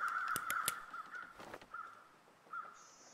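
Crows cawing in the survival game The Long Dark, several harsh caws in quick succession at the start, then scattered calls from a distance, with a soft flutter midway and quiet wind between.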